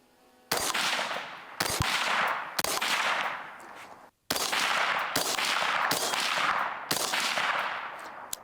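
Suppressed HK MR556A1 rifle with a Flow 556K suppressor and 16.5-inch barrel firing about six loud, close shots at roughly one-second intervals, with a short break midway and each report trailing off quickly.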